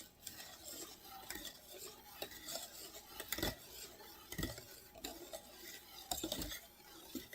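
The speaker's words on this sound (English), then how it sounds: "before I even take it to the stove, I'm going to stir this" A spoon stirs a homemade chocolate pudding mixture in a pot before it goes on the stove, giving quiet scraping and clinking with a few sharper knocks against the pot, faint and close, with no voices.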